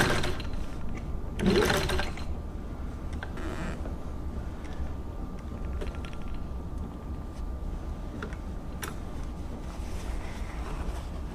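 Singer 15-91 sewing machine running a straight stitch through fabric, a steady close mechanical whir with a few brief louder knocks near the start and scattered clicks.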